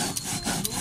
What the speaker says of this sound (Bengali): লবণ, সর্ষে আর শুকনো লঙ্কা একসঙ্গে বেটে নিচ্ছি।